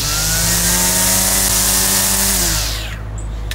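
Stihl FSA 90 battery trimmer running close and loud, its high motor whine rising in pitch as it ramps up to full speed before the tone shifts near the end.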